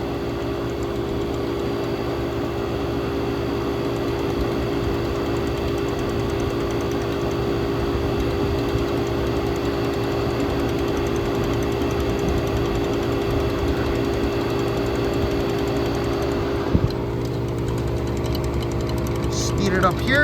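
Outdoor air conditioner unit running on a hot day, heard from the low-speed compressor side where warm air blows out: a steady, loud mechanical hum and whir that holds constant throughout, with a brief bump near the end.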